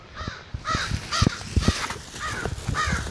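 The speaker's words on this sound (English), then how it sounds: "Frickin' crows, I love them." Several crows caw overhead from a tree in a rapid series of harsh, evenly spaced calls, loud and close, with no talking over them.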